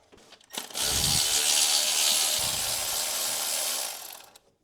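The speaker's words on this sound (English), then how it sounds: "That nut is gonna come off, and then I'm gonna take the cable off, and then we'll put the nut right back on the alternator." Ratchet or power tool spinning off an alternator nut on a Jeep Cherokee XJ with a 4.0 engine, a short click then a steady loud mechanical whir for about three seconds, close up, no talk.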